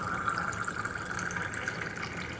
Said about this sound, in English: it's boiling water coming out of that tap